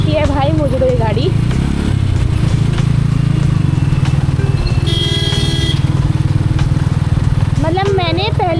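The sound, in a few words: motorcycle being ridden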